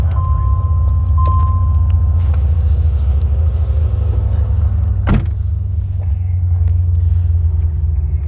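1985 Corvette with a 4+3 transmission on a drive, a heavy low engine rumble heard from inside the car with a brief sharp knock midway and a faint whine early on.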